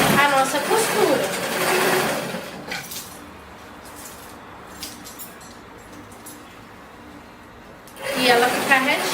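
A sewing machine stitches fabric for a skirt, a soft, fast, steady mechanical whir heard close up between stretches of talk at the start and end.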